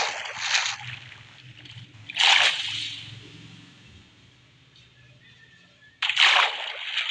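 Bursts of splashing and sloshing water arrive in three separate surges over a quiet low rumble in the video game Craftsman 5, with no voices.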